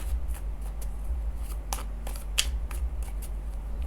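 Tarot cards being shuffled and drawn, with a run of short, crisp papery flicks and snaps close by, set against a steady low background hum.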